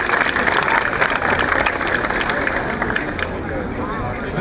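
Students at a back-to-school event applaud their teacher, a steady mass of clapping mixed with crowd murmur and hubbub, fairly loud and continuous, with chatter underneath.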